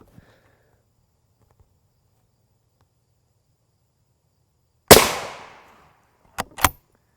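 Two M855A1 rifle rounds from a 16-inch barrel strike a Level III+ steel body armor plate: a loud sharp shot with a decaying ring, then a quick pair of cracks, all after several seconds of near silence outdoors.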